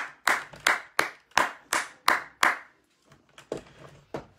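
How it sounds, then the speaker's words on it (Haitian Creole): A single person claps in a slow, even rhythm, seven sharp close claps spaced about a third of a second apart, then a short pause and a looser burst of softer, irregular claps. "Bat bravo pour la jeunesse"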